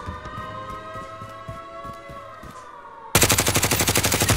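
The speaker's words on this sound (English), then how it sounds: "I just got sniped." Rapid bursts of gunfire in Call of Duty Modern Warfare, a sudden loud volley of repeated shots cutting in after a quieter stretch of game tones and ambience.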